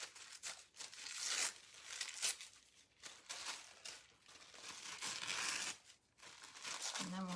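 Paper is crinkled and ripped along one edge while decorating a pumpkin, bursts of crisp tearing and rustling that come in uneven strokes with short pauses between, close and fairly quiet.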